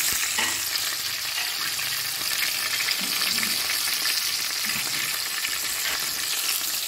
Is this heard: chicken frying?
yes